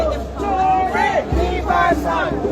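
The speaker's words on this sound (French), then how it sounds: "La foule est en train de chanter" A crowd chanting in unison at a London rally supporting Ibrahim Traoré: many voices at steady volume, loud and near, with rising and falling sung lines over a dense background murmur.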